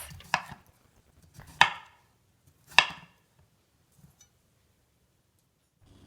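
Three sharp knife chops on a cutting board, cutting prawns or broccoli into bite-size pieces, spaced about a second apart, followed by quiet with a couple of faint taps.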